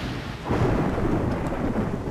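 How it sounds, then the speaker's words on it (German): Thunder rolls through a rainy storm in Splinter Cell Pandora Tomorrow, a low rumble swelling midway over a constant hiss of rain with no voices. "Ja, Gewitter."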